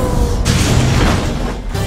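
A loud, sustained explosive roar from an action film fight scene, with heavy low rumble, a burst that swells and holds for a moment before dropping off.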